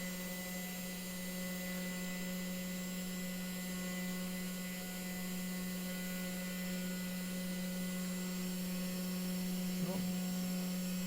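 A small 3018 CNC router runs while carving large Scrabble tiles, giving a steady, even electrical hum with a tonal whine that holds unchanged throughout, with no voices over it.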